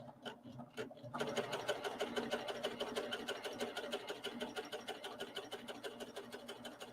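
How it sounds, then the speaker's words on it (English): Serger sewing machine running a 3-thread cover stitch, starting with a few slow clacks and then settling into a steady, fast, rhythmic mechanical hum, close and continuous. "I'm going to stitch this off. I've got it set up as a 3-thread cover stitch."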